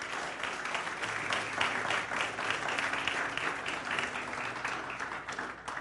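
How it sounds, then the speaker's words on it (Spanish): A church congregation claps together in sustained, steady applause during a worship service, a dense wash of hands filling the room at an even level with no one speaking over it. "Denle un aplauso a Dios si está con gozo."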